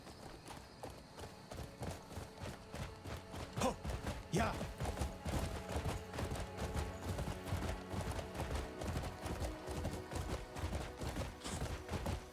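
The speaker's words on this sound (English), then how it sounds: "I'm losing my breath just watching this horse climb this hill" A horse climbs a hill in the video game Crimson Desert, its hooves striking in a quick, steady clip-clop rhythm that stays close and prominent throughout.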